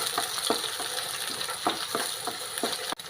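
Green chilies fry in a pan for a chicken stew, giving a steady low sizzle broken by several soft stirring scrapes and one sharp knock near the end.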